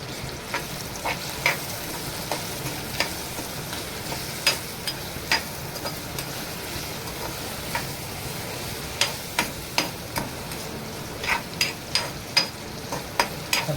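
Chopped onion sizzles steadily in hot oil in a pan, stirred throughout, with the spoon making repeated clicking and scraping taps against the pan over the constant frying hiss.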